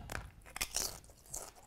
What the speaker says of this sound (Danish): Det her med at spise chips hele tiden.